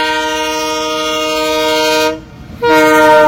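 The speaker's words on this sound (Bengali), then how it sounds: "775 up Sirajganj express hi tech city প্রবেশ করবে।" A Sirajganj Express train sounds a long, loud, steady horn with strong tonal harmonics, broken by a brief dip near the end before the horn resumes, with no talk over it.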